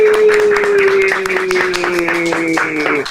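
Studio audience applause on an Indonesian podcast greeting a singer. Close, sharp claps repeat steadily while a voice sustains a drawn-out tone over them.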